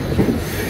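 A train running on rails, a brief close rumble of wheels with a low rolling swell and no voices.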